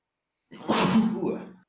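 One person lets out a single sneeze, a sudden, loud burst that follows half a second of silence and trails off after about a second, with no other sounds around it.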